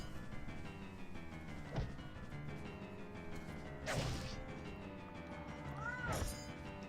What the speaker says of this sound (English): That's why he's meowing if you've been hearing the meows